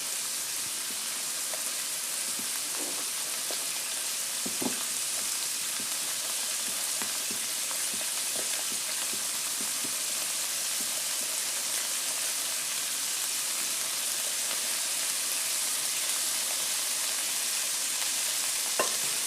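Bacon frying in a pan, giving a steady, dense crackling sizzle with small pops throughout, heard up close with no one talking.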